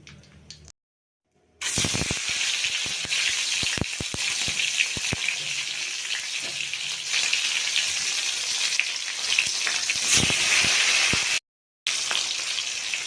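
Chopped tomatoes hit a hot pan of oil tempered with asafoetida in a home kitchen, giving a loud, steady sizzle with crackling spatters that runs almost continuously, broken by two brief silences.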